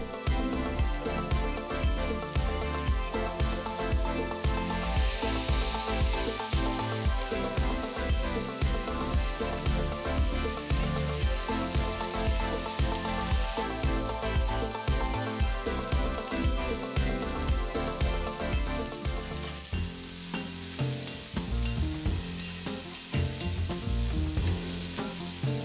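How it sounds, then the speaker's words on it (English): Burger patties frying in avocado oil in a cast iron pan, a steady dense sizzle and crackle that stays loud and continuous throughout, with no talking. "It's time to get some avocado oil into our cast iron pan so we can start cooking our patties."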